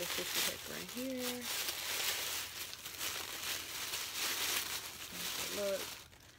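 Packaging paper is handled and crinkled while orders are packed, with a steady rustle under nearby talk and a few soft crumples.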